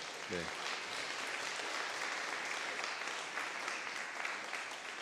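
A church congregation claps to welcome a returning visitor, a soft, continuous patter of applause that sounds distant and fairly faint throughout.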